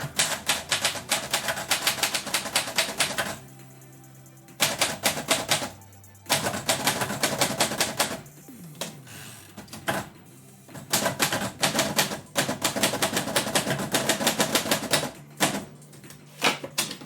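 A typewriter clatters out a poem in rapid bursts of keystrokes, with short pauses, bell-like dings and carriage returns between lines, close and loud with no talking.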